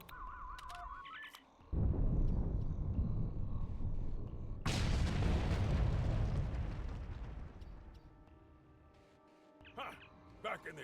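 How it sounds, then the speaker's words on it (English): Primed bombs detonate in Star Trek Online: after short electronic beeps, a heavy blast roars out, then a second, louder explosion rumbles for several seconds before fading into quieter game sounds. "bombs are primed to blow. We should move to a safe distance."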